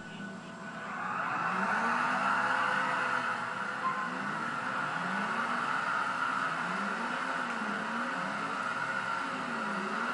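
Ferrari cars racing in GTA IV sound as a steady, loud engine drone with a rising and falling whine, tires hissing on the road, and no one talking.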